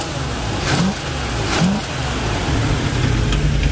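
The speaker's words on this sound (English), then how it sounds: "the exhaust is obviously leaking" The V8 in a 1979 Chevy Malibu station wagon runs with a leaking exhaust from a bad gasket, idling roughly with a couple of short revs, close and loud with no talking.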